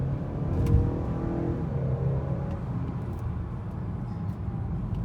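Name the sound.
2018 Honda Accord Sport 2.0T turbo accelerating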